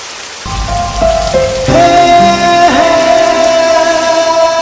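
Heavy rain falls as a loud, dense, steady patter close by, with sustained music tones layered over it and no voices.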